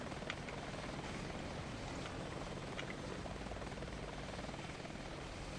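Steady, continuous rotor drone of a modded helicopter in a Battlefield V co-op game, a constant broadband whir holding at even loudness throughout with no talk.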